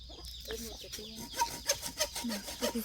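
Chickens cluck in short repeated bursts, close by and fairly loud, with a series of quick rhythmic clucks toward the end and faint background noise.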